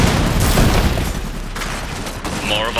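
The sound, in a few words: gunfire in video game Iron Harvest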